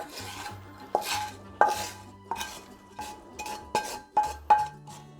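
Bacon and onion are added to a casserole dish with a utensil: a run of sharp clinks and scraping knocks against the dish, roughly a dozen irregular strikes at close range with no voices.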